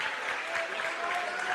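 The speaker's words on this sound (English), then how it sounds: "A well-deserved applause, both defensively, offensively, rebounding, assists." Steady crowd applause fills a high school gymnasium at a basketball game between Marietta and Federal Hocking, a dense, even wash of clapping with no pauses.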